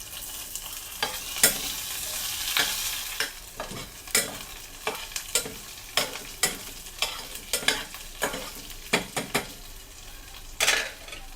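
Garlic and onion for a vegetable dalcha fry in a pan under a steady sizzle, while a spoon or spatula scrapes and knocks against the pan in a quick run of sharp, rhythmic stirring strokes. No one speaks.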